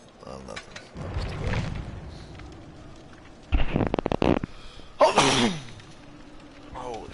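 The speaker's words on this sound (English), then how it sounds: "That was a good sneeze right there, though." A person gives a sudden, sharp sneeze during a Dead by Daylight gaming session, heard as a short burst amid clicks and mechanical in-game noises.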